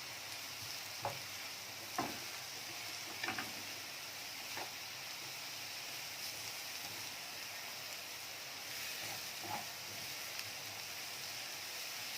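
Mushrooms sautéing lightly in a pan before meat goes in, a steady soft sizzle with a few sharp clicks and stirring knocks of a utensil against the pan.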